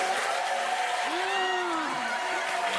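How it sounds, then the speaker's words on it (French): A French TV studio audience applauds a contestant with a dense, fairly soft wash of clapping, and a voice speaks over it partway through. "Applaudissements pour lui."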